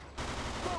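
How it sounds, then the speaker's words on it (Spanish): Gunfire in the video game Mafia II: a dense, loud burst of rapid shots starts abruptly after a brief quiet moment and continues steadily to the end. "hay más disparos"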